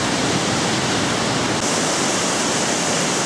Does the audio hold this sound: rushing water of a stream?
yes